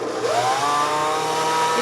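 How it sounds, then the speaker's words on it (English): A kitchen blender chops and purees cream of asparagus soup with cream cheese, a steady loud motor whir with a rising pitch sweep as it speeds up, running continuously without talk. "blender going with a nice chop, and then turn it up to a puree until it's nice and smooth"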